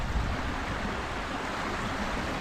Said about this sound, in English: A little waterfall around here.